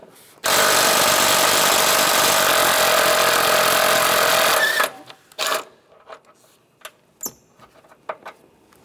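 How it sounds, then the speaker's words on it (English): A 15mm socket spins a nut off a 2010-2016 Cadillac SRX engine during VVT solenoid replacement, a loud, close, continuous whirring buzz lasting about four seconds, then scattered clicks and clunks of handling the parts. "Take this nut off, use a 15mm socket."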